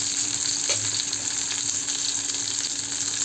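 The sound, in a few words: prawns frying and sizzling in oil in a pan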